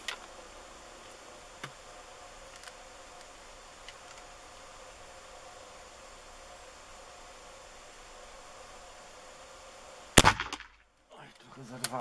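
Steady background hiss, then one sharp, loud gunshot from a Gallager .54 carbine near the end, followed by a brief hush.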